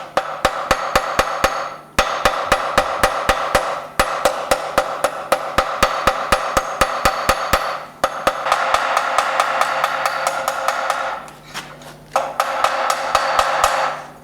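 Hammer blows ring out on hot iron as a medieval arrowhead socket is rolled along an anvil's edge and tidied, the strikes coming in steady rapid bursts with brief pauses between runs, close and loud.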